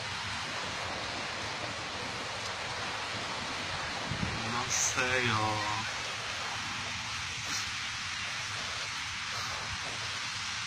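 The Tisza river rushes loudly with drifting ice, a constant, dense roar of moving water, with a brief spoken voice partway through.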